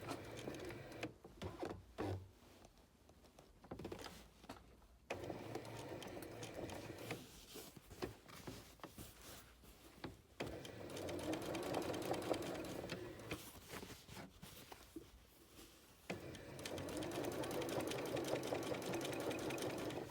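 A sewing machine back stitches to secure thread while sewing a boned bustier, giving bursts of rapid mechanical stitching separated by short pauses, fairly close and quiet, with no talk.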